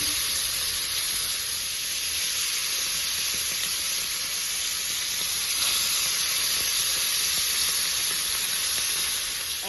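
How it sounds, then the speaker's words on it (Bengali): Fish fry in hot white oil on a flat tawa griddle pan, giving a loud, steady, dense sizzle with constant hiss close up throughout. "তেল কিন্তু গরম হয়ে গেছে, এবার আমি মাছগুলো দিয়ে দিচ্ছি।"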